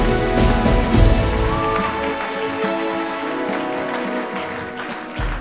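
A church congregation at a French-language service bursts into loud applause and cheering, with dense clapping and scattered shouts. The crowd sounds close and energetic, then eases slightly while staying strong throughout.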